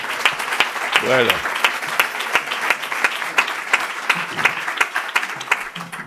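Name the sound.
audience applause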